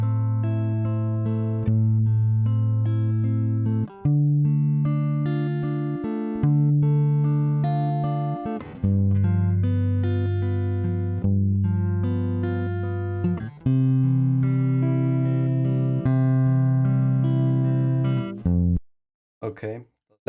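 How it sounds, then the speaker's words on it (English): A clean, dry electric guitar plays a simple melodic part with distinct plucked notes and chords, unprocessed and close, ending in a brief pause. "We have this super simple guitar part recorded"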